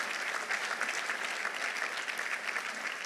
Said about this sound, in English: Give me a round of applause for America